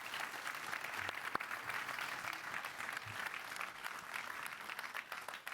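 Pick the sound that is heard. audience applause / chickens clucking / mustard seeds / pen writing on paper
audience applause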